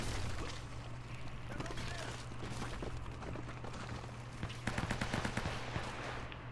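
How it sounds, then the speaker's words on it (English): Rapid bursts of gunfire in the video game Uncharted crackle throughout, with people talking over the shots. "I heard gunfire."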